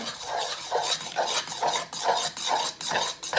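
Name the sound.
stirring a thick gloopy science-experiment mixture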